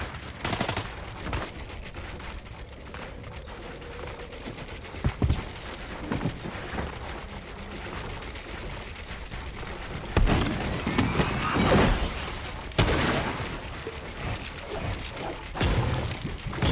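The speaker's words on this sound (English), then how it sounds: "Somebody's shooting nearby," Gunshots fired nearby, heard as scattered sharp cracks and short bursts over a steady noisy background, louder near the end, with no talking.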